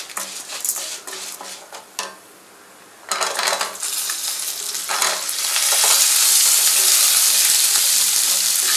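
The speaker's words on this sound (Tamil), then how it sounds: "லோ ஃப்ளேம்லேயே வச்சு நல்லா வதக்குங்க" Onion sautés with lentils and peanuts in a pan for a beetroot chutney: stirring clatters and scrapes over a sizzle that drops away briefly, then swells into a loud, steady hiss of frying, close up.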